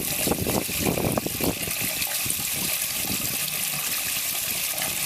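Tap water rushing through the hose of a home-brew wort chiller while cooling bitter wort for an IPA, a steady close gushing and splashing that runs for five seconds, with some clattering at the start.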